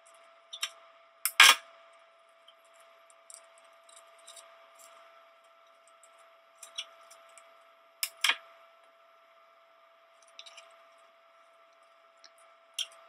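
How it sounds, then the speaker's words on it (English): Wire snippers cut through the metal-cored stems of artificial flowers for a Dollar Tree pumpkin topiary, giving a few sharp, separated clicks and snaps close by over a quiet background. "You can use some wire snippers to cut the stems of your floral."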